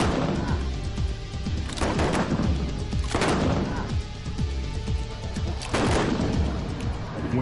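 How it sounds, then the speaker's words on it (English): Guns fire in a series of loud, booming shots, roughly three heavy blasts spaced a second or more apart over a rumbling background. Each shot has a sharp onset and a brief echoing tail. "The gun they're firing."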